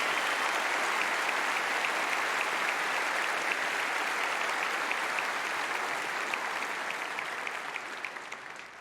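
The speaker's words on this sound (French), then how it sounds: "je vous demande d'applaudir mes parents" At the Roland-Garros 2026 tribute ceremony for Gael Monfils, a large tennis crowd applauds his parents, a broad sustained wash of clapping that fades slightly toward the end.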